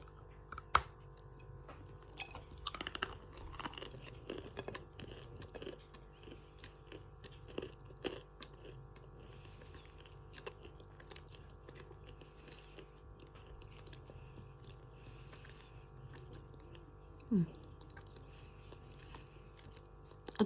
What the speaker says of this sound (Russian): Откусывается с глухим хрустом.